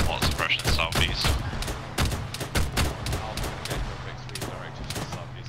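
Gunfire in the military shooter Arma 3, with rapid bursts of rifle and machine-gun shots cracking in close succession, loud and dense, with some heavier reports and a low rumble underneath.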